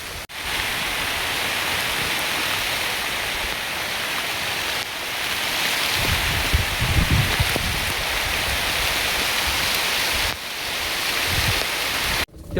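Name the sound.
heavy rain falling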